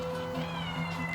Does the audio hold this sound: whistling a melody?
no